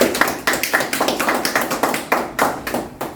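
Loud, rhythmic, unison clapping from a workshop audience at an accident-prevention safety session, beating in an even pulse of sharp, close hand claps.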